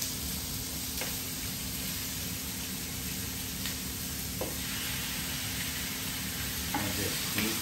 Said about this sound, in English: I'm going to stir that up one more time.